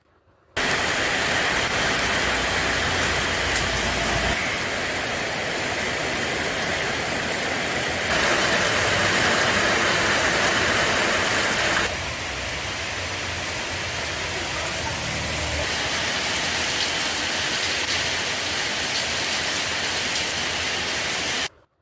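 Steady rain falls in a tea- and coffee-growing district, a dense, even hiss that runs unbroken for about twenty seconds with slight swells in loudness and no voices.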